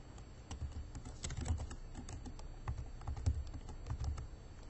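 Soft, rapid clicks of a computer keyboard being typed on, an uneven rhythm of quiet keystrokes heard close and alone.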